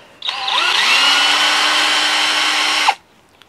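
Power drill backing screws out of a polytunnel shelf pillar, a single sustained whine of about two and a half seconds with a rising pitch as it spins up, then a sudden stop, close and loud.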